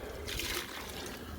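Hot water poured from a jug during gold recovery from computer scrap, a brief, close splashing trickle that swells then eases off as the liquid lands in the container.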